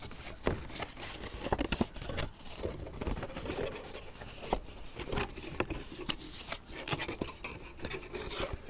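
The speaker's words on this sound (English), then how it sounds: "I'm just going to bend them on their score lines." Cut and scored cardstock gift box pieces are bent along their score lines by hand, giving soft, close scratchy rustling and small creasing crackles throughout, with no talk.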